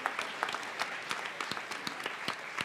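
A church congregation claps in praise for the children: a dense, steady round of many hands clapping together, fairly close and sustained.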